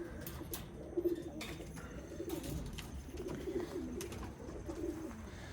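Racing pigeons coo softly in a breeding loft, with repeated low throaty calls rising and falling over a faint background hum, close and quiet.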